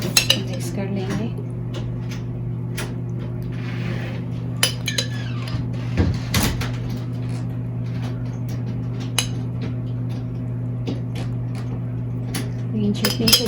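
Dahi bhalla chaat being mixed in a dish, with steady clinks and scrapes of a spoon against the dish over a constant low kitchen hum, close and moderately loud.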